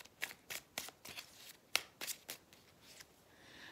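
Tarot cards being shuffled in a series of crisp, regular riffles and snaps, about a dozen quick bursts close to the ear, with no talking.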